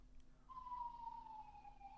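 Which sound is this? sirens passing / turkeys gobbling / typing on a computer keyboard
sirens passing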